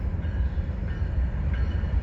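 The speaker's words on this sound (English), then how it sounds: "Got a southbound train" A southbound CSX freight train rumbles past nearby, a steady low roar of rolling wagons with faint rattling on the rails.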